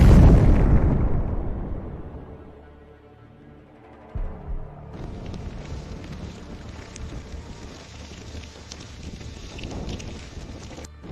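HIMARS missile strike exploding on a BM-21 Grad rocket launcher: a loud blast opens, then rumbling decays into a lower wash of wind-like noise and scattered crackling pops.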